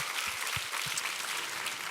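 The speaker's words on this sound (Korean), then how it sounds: "큰 박수로 한번 영광 올려드리겠습니다" Applause from a church congregation at a Sunday service fills the space, a dense even patter of many hands clapping that holds at a steady moderate level throughout.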